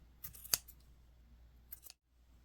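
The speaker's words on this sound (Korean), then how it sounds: "우선 가위로 여기 접혀져 있는 부분을 일일이 다 잘라주세요." Scissors snip through the folded loops of a yarn tassel for a crocheted butterfly norigae ornament. Two or three quiet, close, crisp snips come with soft handling rustles, followed by a brief silence.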